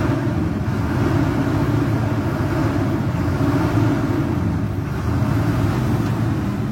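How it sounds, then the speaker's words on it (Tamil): A modified lorry's engine idles with its exhaust running, a steady, loud low rumble that holds constant throughout. "ஸ்டார்ட் பண்ணிட்டோம். அப்படியே எக்ஸாஸ்ட் நான் உங்களுக்கு காமிக்கிறேன்."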